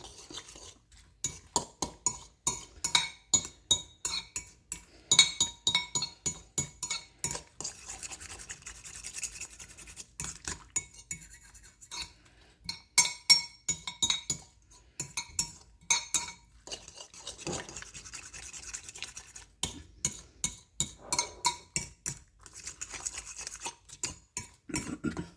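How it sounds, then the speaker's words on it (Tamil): Eggs with onion and chili being beaten with a fork in a bowl, rapid rhythmic clinking and tapping strokes continuing throughout, close and fairly quiet, with brief pauses between bursts. "ஆட் பண்ணி ஒரு ஃபோர்க்கை வச்சு நல்லா பீட் பண்ணிகிட்ருக்கேன்."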